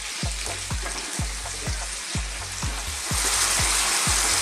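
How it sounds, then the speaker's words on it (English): Zucchini and other small vegetables tossed in a hot frying pan, a steady sizzle broken by regular soft thumps as the pan is shaken, about ten tosses in even rhythm, growing slightly louder near the end. "that was just sort of tossing these vegetables around to sort of grab some of that flavour"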